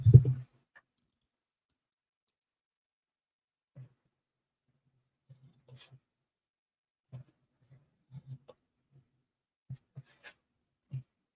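Scissors cut a paper triangle out of a sheet for a handmade gift card holder, with sparse quiet snips and paper rustles spaced out after an initial handling noise.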